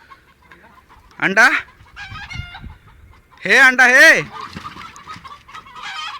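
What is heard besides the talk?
chickens clucking and squawking in a coop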